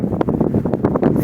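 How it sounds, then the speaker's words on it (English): Strong wind buffets the microphone on Bighorn Pass in Yellowstone, a steady low rumble with gusty surges throughout, loud and close with no voices. "I apologize for the wind."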